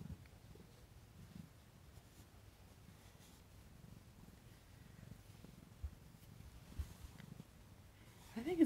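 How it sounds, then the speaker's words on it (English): A cat purrs softly and steadily at close range, a low continuous rumble that stays faint throughout, with a few small rustles toward the end. "She's purring."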